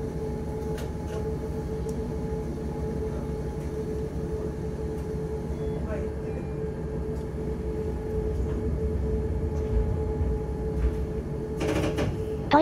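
Steady low rumble of a Nanao Line train pulling away, a continuous droning hum with faint clanks, swelling slightly near the end.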